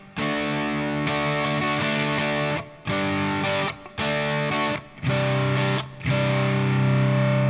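An electric guitar, a PRS Special played through a Revv G120 MK III amplifier, rings out with an edge-of-breakup overdriven tone, strummed chords sustaining between brief gaps, loud and close with no talking.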